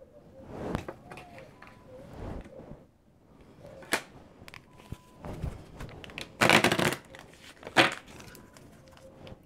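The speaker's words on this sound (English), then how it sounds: "When I pulled the deck out and started shuffling" A deck of tarot cards is shuffled by hand, with intermittent close riffles, slaps and papery rustles in bursts separated by brief pauses.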